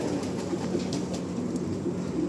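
Soft, repeated cooing of pigeons over steady low background noise, continuous and fairly close, with no voices.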